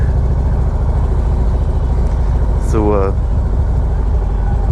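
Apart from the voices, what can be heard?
Harley-Davidson Street Glide motorcycle riding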